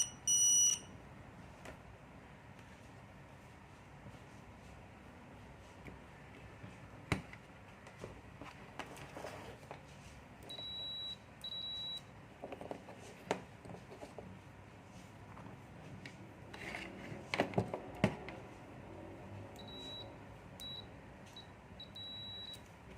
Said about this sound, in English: So there is the buzzer sound.